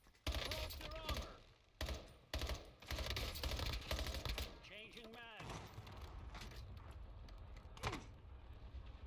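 Call of Duty Warzone magazine change: quick mechanical clicks and clacks of a reload come amid bursts of gunfire and clattering keys, with a voice talking over parts of it.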